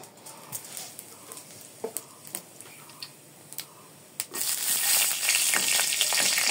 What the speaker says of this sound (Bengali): কড়াইতে একটু তেল দিয়ে দিব, ওখানে একটু কালো জিরা ফোড়ন দিয়ে দিব।